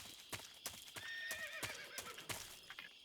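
A horse neighs in the Metal Gear Solid 3: Snake Eater video game, with a high, wavering whinny in the middle and sharp hoof clip-clops repeating throughout. The whole thing is fairly close and clear, with no talking.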